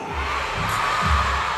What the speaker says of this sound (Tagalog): Lahat sumigaw ng Gendo!